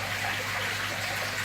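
Pump-fed waterfall at a garden koi pond, a steady close rush of falling, splashing water that continues evenly throughout.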